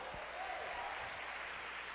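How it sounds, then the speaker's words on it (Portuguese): Applause from a church conference congregation, a steady wash of clapping across the hall that carries on without a break, fairly faint and heard without talk. "Será que você pode aplaudir o Senhor?"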